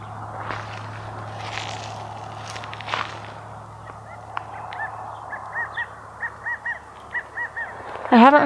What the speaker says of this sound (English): I can hear another bird now.